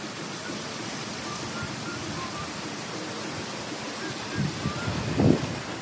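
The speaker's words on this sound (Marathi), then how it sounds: "बाहेर छान असा पाऊस पडतोय" Rain falling outside makes a steady, broad wash of soft noise, like distant surf, with a few faint nearby knocks toward the end.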